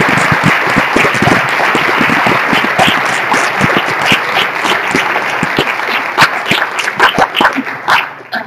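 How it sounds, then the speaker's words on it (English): Sustained applause from an audience at an academic forum on political violence in Mexico, dense and loud with sharp individual claps rising toward the end, continuing without a break for several seconds. "we need to give our speakers another round of applause"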